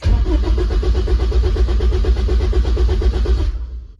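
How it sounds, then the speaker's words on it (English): A warmed-up Honda S2000 engine, fitted with a 14-volt battery and alternator, idles loud and close with a steady rhythmic pulsing, then cuts off abruptly and the sound fades away, with no talking. "you can just hear this thing just cranking, not a problem"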